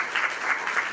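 An audience claps for graduates at a State of the City address in Coachella, a dense, even wash of applause held at steady loudness throughout.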